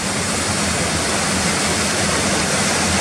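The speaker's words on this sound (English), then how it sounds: "I hope you like the waterfall scene here." Waterfall at Careyburn Bridge, a steady, dense rush of falling water that holds level and close throughout, with no voices over it.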